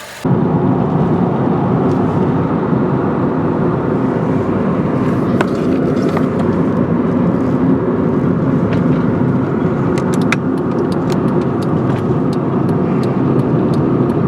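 Loud, steady engine and road roar from inside a slightly rough-running test car, dosed with STP octane booster and floored on the I-70 highway, holding a dense, unbroken drone throughout.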